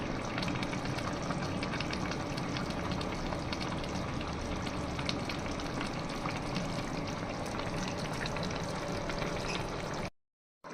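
Tomato fish curry made with sarpunti fish simmers in a pan on the stove, giving a steady, even bubbling and soft frying hiss that runs close and unbroken, with no voices.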